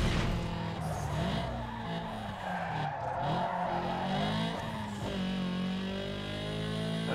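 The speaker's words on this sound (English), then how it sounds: "You over here drifting, showing up our cool livery." A car drifts in Need for Speed Underground 2 on PS2, its tires squealing loudly and continuously over a revving engine, with the pitch shifting as the slide goes on.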